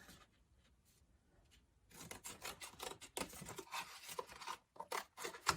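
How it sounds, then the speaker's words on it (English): Close, quiet snipping and rustling of scissors cutting a heart shape out of paper in short irregular bursts after a near-silent start. "you're going to take your scissors, and you're just going to cut your heart out"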